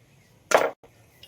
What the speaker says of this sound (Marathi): या पद्धतीने मी उभा कापून घेतला